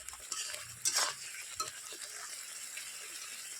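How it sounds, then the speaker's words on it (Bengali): A mustard and poppy seed paste is sautéed with stirring, giving a quiet sizzle with brisk scraping strokes and a louder burst near the start. "সর্ষা আর পোস্তটা ভালো করে কষিয়ে নিচ্ছি"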